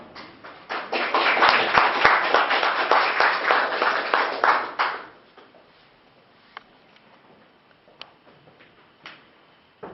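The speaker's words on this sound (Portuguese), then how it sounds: "Muito obrigado pelos aplausos" Audience applause for a poet at a Luso-Brazilian poetry evening, a burst of many hands clapping that swells for about five seconds, then thins to a few scattered claps.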